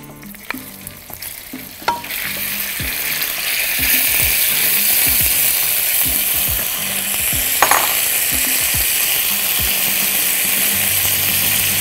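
Chicken pieces hit hot oil in a pan, and a loud, steady sizzle and crackle builds and holds throughout, with a few light clinks and stirring knocks early on.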